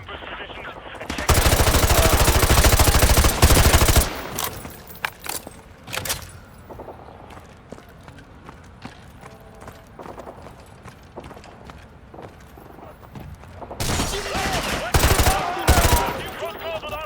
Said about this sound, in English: Roach, we're taking heavy fire from the militia here